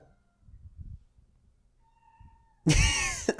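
A house cat lets out one loud, drawn-out meow near the end, after quiet moments of low murmuring and faint background tones.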